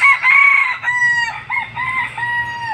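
A rooster crows loudly and close by, a long strained call followed by shorter rising and falling cries, with no voices present.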